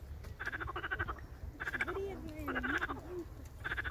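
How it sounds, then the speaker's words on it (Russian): A frog in a botanical garden greenhouse croaks while puffing its cheeks, giving repeated rhythmic bursts of close, buzzing croaks with brief pauses between calls, and a faint voice underneath. "Сейчас дальше вы там увидите лягушку, как она раздувает свои щеки."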